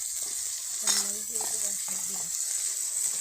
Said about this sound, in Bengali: পেঁয়াজটা ভাজা হয়ে গেছে এখন আমি এখানে দিয়ে নিলাম আদা বাটা রসুন বাটা আর হচ্ছে জিরা বাটা